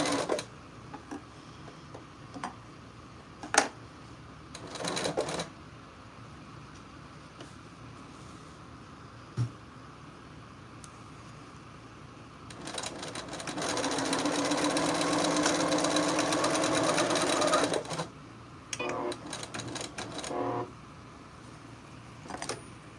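A sewing machine stitches a quilt in one steady, loud run of about six seconds, set between quieter stretches with scattered clicks and handling knocks.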